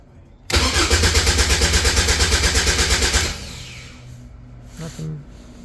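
A Caterham 7 620S cranks from cold and fails to start: a loud, steady, rhythmic starter churn runs for about three seconds and then cuts off, leaving quiet background with a few faint clicks.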